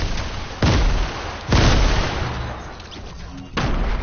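Grenade blasts in a first-person shooter video game: three loud, booming explosions land close, each a sharp broadband burst with a rumbling tail, the last one arriving after a quieter stretch.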